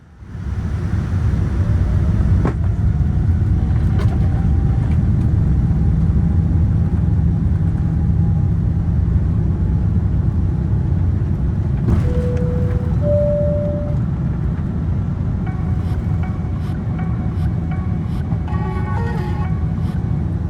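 Steady, loud broadband roar of the Rolls-Royce Trent jet engines on a Virgin Atlantic Boeing 777 climbing out after takeoff from Shanghai, a constant dense cabin drone with brief faint tones and clicks over it.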